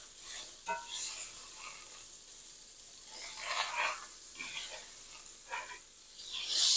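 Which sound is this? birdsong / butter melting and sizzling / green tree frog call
butter melting and sizzling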